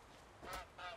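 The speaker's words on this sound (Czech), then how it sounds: "Kachna?" Two short quacking honks from a duck in the video game Force of Nature 2, fairly near and clear against a quiet ambient background, the second following closely after the first.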